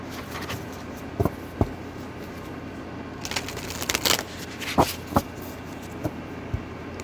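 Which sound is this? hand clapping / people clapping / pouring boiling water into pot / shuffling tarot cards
shuffling tarot cards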